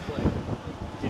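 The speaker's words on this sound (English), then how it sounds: "it's a little bit windy." Gusty wind buffets the microphone outdoors on a fall day in New York City, making low rumbling bursts that swell and fade over a second, with a voice faintly present underneath.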